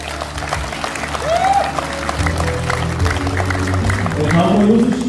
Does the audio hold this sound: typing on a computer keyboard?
no